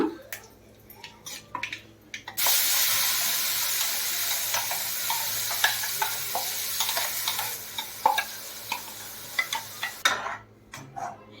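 Ground masala hits a pan of bhindi (okra) curry, setting off a sudden loud sizzle after a few quiet clicks. The sizzle is broken by regular spoon stirs and clinks against the pan, then fades back to scattered taps.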